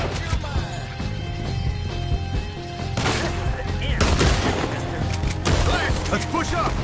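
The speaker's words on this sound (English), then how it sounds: "We'll have to shoot our way out." Gunfire in a Red Dead Redemption 2 shootout: dense, loud volleys of rapid shots and cracks, continuous throughout with heavier bursts near the middle and end, amid game music and effects.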